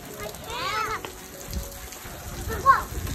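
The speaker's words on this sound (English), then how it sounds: "as the rain comes down" Rain falls steadily outdoors while boys play with water balloons, a soft continuous patter under children's voices and shouts.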